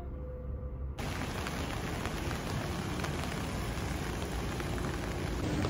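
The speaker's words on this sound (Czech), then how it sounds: "No, ale prší teda opravdu solidně." Heavy rain bursts into a dense, steady hiss after a quieter first second, drumming evenly on surfaces nearby and continuing unbroken, with no speech.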